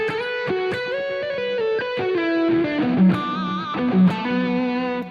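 An electric guitar plays a thick, creamy, distorted lead through an amplifier, sustained notes and bends ringing out alone at steady volume.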